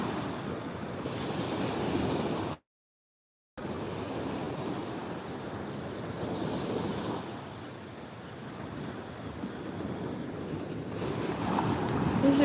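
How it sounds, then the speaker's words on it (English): Gentle ocean waves wash onto the shore at dawn on Maui, a soft continuous surf hiss with slow swells and light wind noise. The sound drops out completely for about a second partway through. "are very gentle waves considering how big sometimes they can be"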